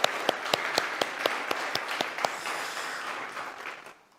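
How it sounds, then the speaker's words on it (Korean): A church congregation claps in encouragement, with a few distinct sharp claps opening into steady applause that fades out after about four seconds. "우리 박수로 한번 격려하겠습니다"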